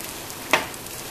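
Potatoes frying in a pot give a soft, even hiss, broken by one brief scrape of a spoon stirring them.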